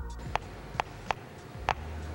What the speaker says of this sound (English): it becomes ionized and sends out an electric pulse, which sounds like this.